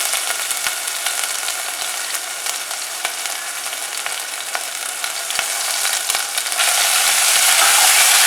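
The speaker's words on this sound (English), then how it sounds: "I'm going to add the crushed ginger, garlic and green chilli" Whole spices, crushed ginger, garlic and green chilli frying in oil, a bright crackling sizzle with sharp pops throughout, growing louder and denser toward the end.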